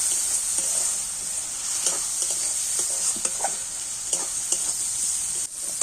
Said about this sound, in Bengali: এইবার আমি সব উপকরণ মশলাগুলো দিয়ে আবারও ভালো করে একটু কষিয়ে নেব